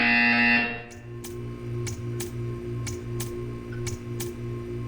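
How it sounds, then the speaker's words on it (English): An electronic buzzer in the video game Portal 2 sounds loudly at first, then gives way to a steady low pulsing hum with evenly spaced ticking clicks repeating about twice a second. "When you hear the buzzer, stare at the art"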